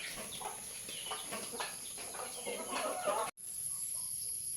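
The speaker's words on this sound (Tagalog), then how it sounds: "inuupakan na ng mga manok ko." Backyard chickens cluck and squabble while eating feed in a rural yard, a busy overlapping chorus of close clucks, with a brief dropout near the end.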